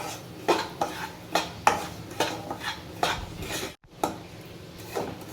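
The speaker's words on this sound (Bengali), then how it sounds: "এবার আমরা এর মধ্যে দিয়ে দেবো সুজি। সুজিটাকে একটু হালকা করে ভেজে নেব।" Semolina stirred and lightly roasted in melted ghee, a series of scraping spoon strokes against the pan with faint sizzling, close and fairly steady, each stroke a soft rasp, with no one speaking.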